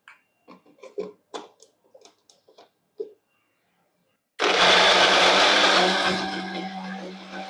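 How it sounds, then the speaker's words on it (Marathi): A blender whirs loudly into action after several seconds of light clinks and taps, blending a fasting-day smoothie with saffron, with a steady motor roar and a low hum running to the end. "आता त्याचा छानपैकी ब्लेंड मारूया त्याला"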